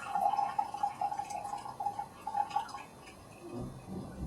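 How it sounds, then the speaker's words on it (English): Tea pours from a lidded cup in a thin, steady trickling stream for nearly three seconds. It then tapers to a few soft drips and light handling sounds, close and quiet with no talking. "Index finger holds your lid, and you pour just like this."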